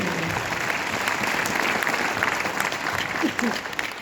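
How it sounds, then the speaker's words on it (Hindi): A seminar audience breaks into loud, sustained applause, a dense steady wash of many hands clapping together for several seconds. "एक बार जोरदार तालियां हो जाए सर"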